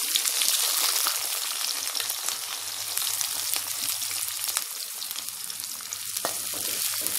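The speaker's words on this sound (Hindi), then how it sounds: "1 चम्मच मैंने जीरा डाल दिया है, और ये प्याज भून लेंगे हम इसमें।" Onions and cumin seeds fry in hot oil with a constant dense sizzle, punctuated by occasional stirring scrapes, close and loud throughout.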